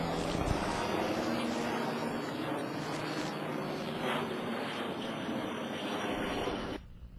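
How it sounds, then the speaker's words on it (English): A lone P-51 Mustang makes a tribute flyover, a loud, sustained propeller engine roar that holds steady before cutting off abruptly near the end. "A fitting end to this story is the flyover of a lone P-51 Mustang in tribute to one of America's greatest pilots."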